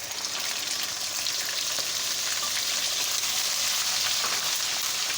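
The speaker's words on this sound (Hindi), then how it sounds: "2 से 3 मिनट प्याज को फ्राई करेंगे जब तक इसका कलर चेंज नहीं हो जाता।" Two large onions, ground to a paste, fry in a pan with cumin seeds, giving a steady dense sizzle that stays close and even throughout, with no voices.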